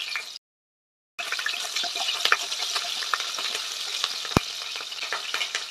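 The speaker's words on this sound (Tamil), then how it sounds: "எல்லாம் நல்லா பொரிய விடுங்க ஃப்ரெண்ட்ஸ்" Ingredients for a spicy Tamil chicken gravy crackle and fry in hot oil, a dense continuous sizzle with scattered pops and one sharp clank, after a brief cut to silence near the start.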